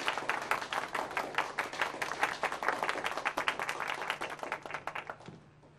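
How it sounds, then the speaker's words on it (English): Audience in a hall breaks into enthusiastic clapping for a volunteer picked from the crowd, a dense, lively round of applause with individual claps audible that fades out at the end. "let's give him a big round of applause"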